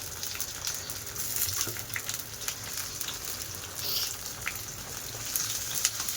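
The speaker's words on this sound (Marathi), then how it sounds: "चांगलं परतून घेऊया आल्याचं वास जाईपर्यंत।" Onion, ginger-garlic paste, green chili and a little tomato fry together in a pan, giving a steady, moderately loud sizzle and crackle with no talking.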